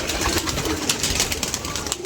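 Pigeons gather at a water tank, soft low cooing mixed into a busy, noisy outdoor background at fairly close range, with no clear speech.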